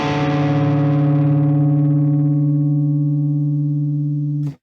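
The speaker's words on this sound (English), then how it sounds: "there's a bit of hissing going on there before the gate kicks in" A sustained, distorted electric guitar chord rings out from an amp tone through an IK ToneX, decaying slowly over several seconds with faint hiss, then cutting off abruptly as a gate closes.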